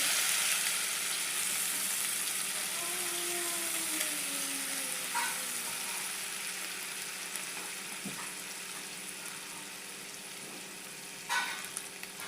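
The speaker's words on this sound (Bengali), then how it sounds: "এবারে দিবেন চালমগজ আর লঙ্কার পেস্টটাকে, এটাকে এবারে ভালো করে ভাজবো মশলাটাকে" Melon seed and chili masala paste fries in a pan with a steady close sizzle, with a few clinks of stirring and a short burst of scraping near the end; no voices.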